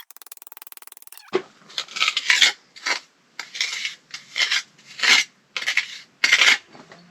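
A steel chisel scrapes and rasps against the mortar joints of a cabin facade being repointed, in a run of about nine sharp, gritty strokes in an uneven rhythm, close and fairly loud, after a second of quieter hiss.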